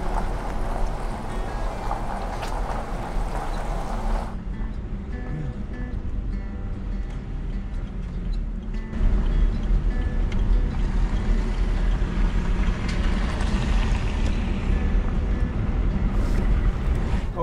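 A ferry crossing in Norway, heard as a loud, continuous engine rumble and broadband wash of water and wind on deck, steady throughout with a shift in tone partway through.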